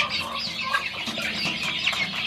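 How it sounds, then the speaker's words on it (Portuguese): Young chicks being fed cracked corn cluck and peep continuously at close range, a busy overlapping chatter of many small birds with no talking. "tá uma lindeza os franguinhos aqui"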